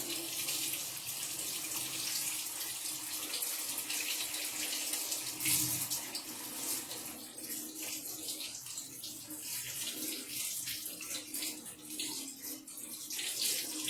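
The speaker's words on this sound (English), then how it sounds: "Rinse them in cold water." Potatoes are rinsed under a running cold kitchen tap, a steady close hiss and splash of flowing water that continues throughout, with slight shifts as the stream hits the potatoes.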